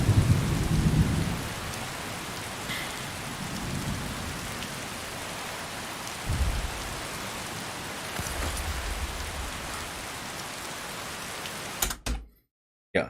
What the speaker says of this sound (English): Yeah, enough rain, please.